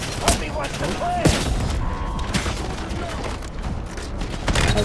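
Sustained gunfire rattles during a Black Ops 7 co-op campaign battle as a barge is targeted, a dense continuous roar of shots and impacts with voices mixed in.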